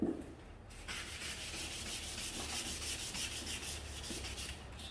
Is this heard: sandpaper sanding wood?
yes